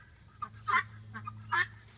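Guinea fowl call outside in a series of rhythmic, harsh, squawking bursts, moderately distant, over a steady low hum.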